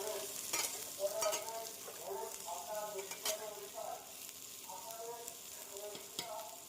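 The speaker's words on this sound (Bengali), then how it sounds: "এবার তাতে সেদ্ধ করে রাখা এঁচোড় আর আলুগুলো ভেজে নেব।" Boiled jackfruit and potato pieces frying in mustard oil, a steady close sizzle broken by repeated scraping stirs and a few sharp spatula taps against the pan.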